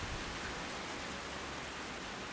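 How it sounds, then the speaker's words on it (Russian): Light rain falling outdoors over a potato field, a steady soft hiss of drops with no distinct events, faint and even throughout, no voices. "И пошел дождик."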